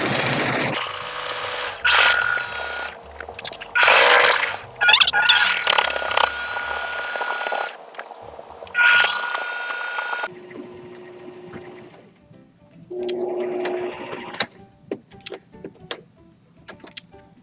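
Sewing machine stitching a fleece owl, with bursts of close mechanical whirring and stitching that start and stop repeatedly, then quieter clicks and handling noises near the end.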